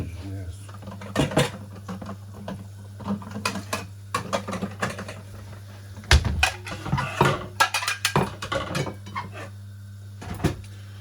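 Someone tidies a kitchen cupboard with a series of irregular clunks, knocks and clatters of doors and dishes. A low steady hum runs underneath, with quieter gaps between the bursts of handling.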